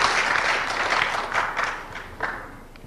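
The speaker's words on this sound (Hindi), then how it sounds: "जोरदार ताली" Loud audience applause filling the room, sustained clapping from many hands that gradually thins out toward the end, with a few sharper claps standing out.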